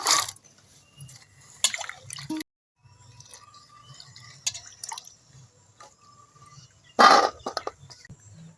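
Pounded turkey berries rinsed in water by hand, with intermittent close splashes and sloshing bursts separated by quiet gaps and occasional light drips.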